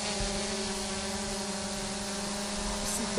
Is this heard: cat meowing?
no